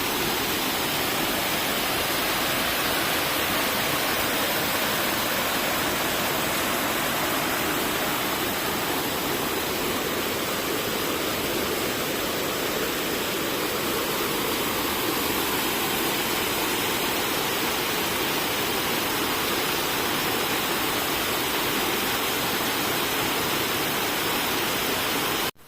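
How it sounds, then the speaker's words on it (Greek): Flooded forest trail fed by a watering hose, water rushing in a broad, steady hiss that stays even and fairly close for the whole stretch, with no voices. "από όπου συνεχίζει όλο αυτό το νερό να κυλάει"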